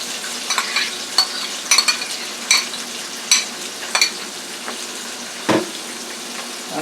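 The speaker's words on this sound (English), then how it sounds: "I'll let the onions cook up a little bit." Chopped onion sizzling in olive oil in a frying pan on a stove, a soft steady crackle broken by sharper scrapes and stirring clatters of a utensil against the pan, close and alone.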